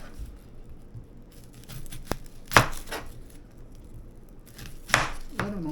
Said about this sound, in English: And I'm going to cut me up a red onion.